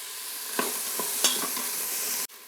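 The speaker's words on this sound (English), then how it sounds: "And then just saute this for a few minutes until the onions are a little translucent." Diced onion and a little garlic sauté in an Instant Pot with a steady close sizzle, scraped by a few stirring strokes and ending in a sharp knock.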